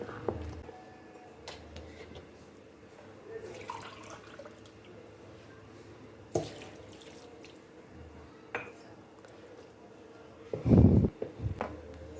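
Water poured from a cup into jaggery in a home kitchen while making dough for puris: soft drips and trickles, then a brief, louder splash near the end, all fairly quiet.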